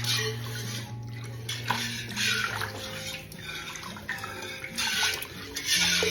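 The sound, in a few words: pouring milk into a pot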